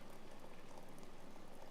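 Hot water pours in a continuous, bubbling stream while tea is being made, a dense close gurgle that holds steady throughout without voices.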